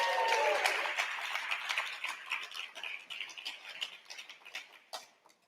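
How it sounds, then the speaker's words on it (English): Applause from a convention audience for a prize winner, a dense burst of clapping at first that thins into scattered claps and fades out, with a faint voice briefly at the start. "Give her a round of applause."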